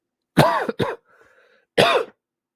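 Three harsh coughs up close, two quick ones together, a brief pause with a faint breath, then one more cough.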